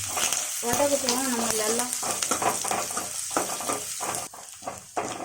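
Onions with curry leaves sauté in a pan for a meal maker soya gravy, giving a loud, continuous sizzle with stirring scrapes and a quick clink. A voice speaks briefly over the frying early on.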